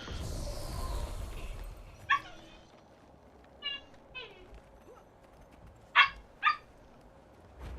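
A puppy named Bailey barks and yips in short, sharp bursts, a few separate calls with the last two close together, moderately near, set against a background with some talk.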